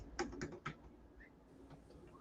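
Quiet clacking of a computer keyboard, a few quick keystrokes close by followed by softer scattered taps in a quiet room.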